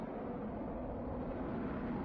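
Steady broadband roar of a jet aircraft rolling down the runway at a busy Tokyo airport, heard from a distance as a constant, even rumble with no talk over it.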